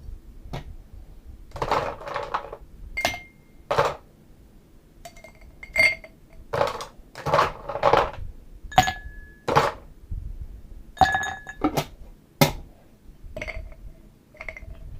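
Glassware clinks and rattles as a rum cocktail with 151 is prepared for a highball, with sharp bright taps, ringing glass contacts and scattered clatter spread unevenly through the stretch, close and fairly loud.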